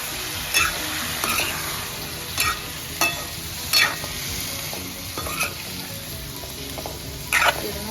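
Pumpkin pieces fry in a spiced oil tempering, a constant sizzle broken by several sharp spatula stirring scrapes at irregular intervals, close by with no speech.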